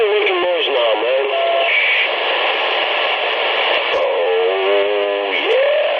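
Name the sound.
Yaesu radio transceiver making noise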